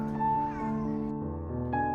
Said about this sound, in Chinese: 路上看见一只小猫